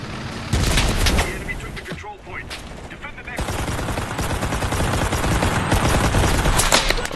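Dense battlefield din in the video game Enlisted: rapid bursts of gunfire and booming artillery impacts, loud and continuous, with a brief lull before the barrage swells back up and keeps pounding.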